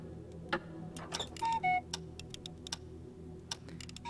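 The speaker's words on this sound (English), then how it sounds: "Just sounds like a normal clock." A ticking clock in the video game We Were Here Together gives faint, sharp ticks at irregular spacing, with a few short tonal blips in between and no voices.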